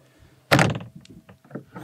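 A latched fiberglass storage box lid on a Vexus VX21 bass boat is slammed shut, giving one loud, hollow thunk close by, followed by a few softer knocks and rattles as the latch settles.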